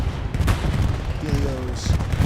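An artillery bombing run in Hell Let Loose rumbles as continuous dense low booming and crackle, loud and close, with a faint whistling tone partway through.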